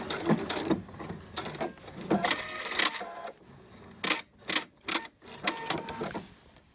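A sewing machine backstitches a seam on a Liberty fabric shirt, running in short rapid bursts of mechanical whirring and stitching with brief pauses between them, close and clear.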